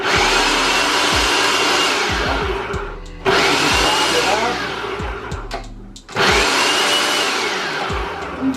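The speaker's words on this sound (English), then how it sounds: "I'm gonna start chopping up this codfish." A food processor chops salt cod in a home kitchen, running in three loud whirring bursts of a few seconds each with brief stops between them, the motor pitch rising as each burst begins.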